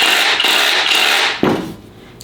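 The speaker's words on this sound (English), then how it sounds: "that's when you're gonna have that hammering action drilling into concrete" A Festool BHC 18 cordless rotary hammer drilling into concrete in hammer mode, a loud dense buzzing rattle that runs steadily and then winds down and cuts off.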